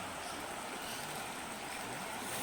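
A river flows steadily at a jungle rest stop used by gold miners, a soft, even broadband rush of water with no voices.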